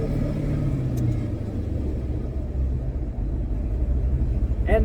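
A car engine idles steadily after its throttle body has been drilled to let in more air, giving a continuous low rumble close by with no speech over it.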